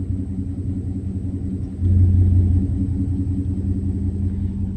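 A 2019 Mustang GT with an MBRP Pro Series cat-back exhaust idles in a low rumble that steps up into a louder, deeper drone once the air conditioning kicks on, heard from inside the cabin.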